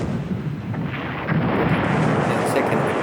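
Torpedo explosions in the naval strategy game War in the Pacific, heard as a sustained low roaring blast that swells louder halfway through and rumbles on without a break.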